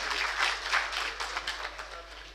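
An audience at a mushaira poetry gathering claps steadily to welcome a guest, a dense burst of applause that gradually thins out, with a voice speaking over it.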